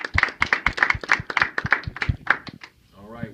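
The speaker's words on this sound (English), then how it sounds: "Give him a round of applause." Small group clapping after an enlistment oath, a few hands giving rapid, fairly close claps that stop abruptly, followed by a brief voice.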